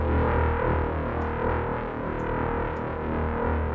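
Heavy distorted FM synth bass made in Ableton Drift sustains as a loud, dense, gritty tone with no pause, a thick buzzing drone carrying a few faint high clicks.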